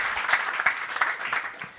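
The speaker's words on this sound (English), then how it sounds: "I'll try to live up to that round of applause" A live audience applauds before a talk on planning and development strategy, steady dense clapping filling the whole short stretch at moderate distance, with no voice over it.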